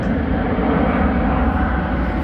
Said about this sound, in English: Forever the sound of jet aircraft.